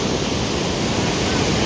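Roar of the Iguazu waterfalls on the Iguazu River, Brazil, a steady dense broadband rush filling the scene without letup, with no voices over it.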